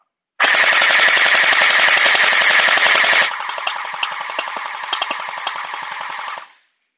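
An M4A1 gel ball blaster fires a rapid, loud, continuous automatic burst for about three seconds. A quieter stream of fast, lighter shots follows before it stops abruptly.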